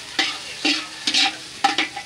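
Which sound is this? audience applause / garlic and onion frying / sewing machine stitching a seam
garlic and onion frying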